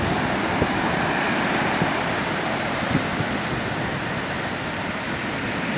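Rough sea waves breaking on a beach at St Lucia, a continuous loud wash of surf with occasional faint low thumps and some wind noise, no voices.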